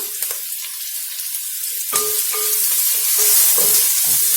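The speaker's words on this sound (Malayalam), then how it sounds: "ഇനി ഇതെല്ലാം കൂടെ നല്ലോണം ഒന്ന് വഴറ്റിയെടുക്കണം" Onion, slit green chillies and curry leaves sautéing in a pan for a masala curry, a loud continuous sizzle with stirring scrapes and no voices.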